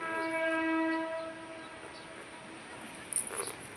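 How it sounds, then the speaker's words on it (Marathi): A train sounds a long horn blast near a garden by a river, with a steady tonal note that fades into distant rumble before a few faint bumps at the end. "ट्रेन आली. ट्रेनचा आवाज आला बघ."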